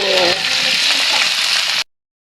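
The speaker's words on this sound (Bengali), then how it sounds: "একটু নেড়ে চেড়ে নিচ্ছি" Sliced bitter gourd and potato sizzle and fry in a pan as they are stirred, a bright, steady crackle for nearly two seconds before stopping abruptly.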